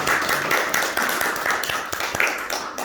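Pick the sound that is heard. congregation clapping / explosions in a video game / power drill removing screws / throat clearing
congregation clapping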